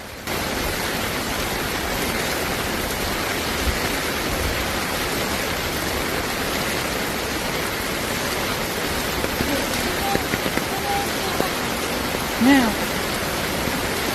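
Dense, steady roar of torrential typhoon rain on Kyushu Island in southern Japan, pouring continuously and loudly with no breaks, while a voice talks faintly beneath it.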